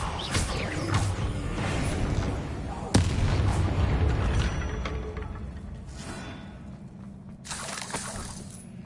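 An Expelliarmus disarming spell cast in Hogwarts Legacy, with crackling bursts, a sharp crack near the start of the middle and shattering, rattling debris over a rumbling bed of combat noise, loud and close, easing off toward the end.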